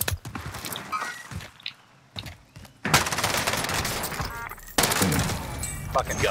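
Sten submachine gun firing in a Rebirth Island shooter game, dense rapid bursts of automatic fire with a short lull in the middle, loud and close amid footsteps and game noise, with a voice talking over it.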